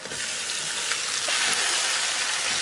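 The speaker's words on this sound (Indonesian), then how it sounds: "Kita tumis-tumis lagi, biarkan nanti sampai wangi banget." Indonesian spice paste sautéing in a pan before boiled bamboo shoots go in, a dense, even hiss of frying that stays loud and steady for a few seconds with no talk.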